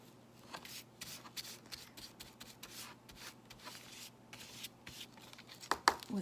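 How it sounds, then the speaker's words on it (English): A brush spreads wood-glue paste onto the limbs of a giant papier-mâché mermaid puppet, giving soft, faint, close rubbing and scraping strokes in an uneven rhythm with no talk. "applied it with a brush to all the different limbs"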